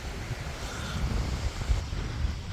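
Wind blowing outdoors, a steady low rumble of gusts buffeting the microphone throughout, fairly loud with no speech.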